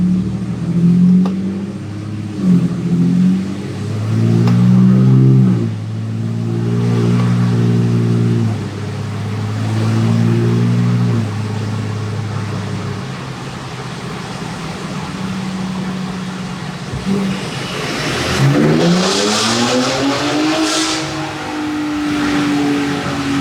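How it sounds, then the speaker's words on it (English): A 2023 Ford Raptor with the 3.5L EcoBoost engine runs a full pull on a dyno, its loud, close engine note climbing steadily in pitch, then dropping back and revving up again toward the end. "This is my perspective of a dyno pool on this 23 Raptor."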